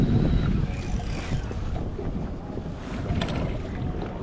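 Gusty wind buffets the microphone on a fishing boat out on Castaic Lake, a loud, uneven rumbling roar that swells and eases over a few seconds, with no talk.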